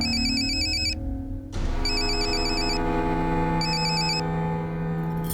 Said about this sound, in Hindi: कोई दिल जले आशिक का फोन आ रहा है आपको